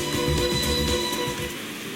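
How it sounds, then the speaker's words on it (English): Steady rain falling outside a window, a dense continuous hiss with a low rumble, loud and unbroken throughout as a game sound effect. "Closing the window shut out the sound of the rain outside"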